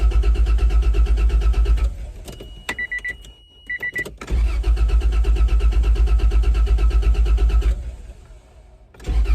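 A Toyota Land Cruiser 80 engine cranks loudly with a fast rhythmic churn that never catches, pauses with a few clicks, then cranks again at length before fading out.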